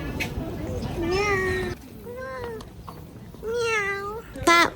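A little cat beside a blue door on an outdoor stairway meows three or four times. The meows are close, clear and drawn out, with brief pauses between them.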